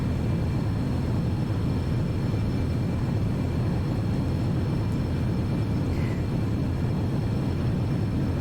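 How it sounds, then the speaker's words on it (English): An Antonov An-225 on its takeoff roll makes a steady, heavy roar of engines, loud and unbroken throughout, with a deep rumbling low end and no voices. "I'm trying to pull the plane's nose up."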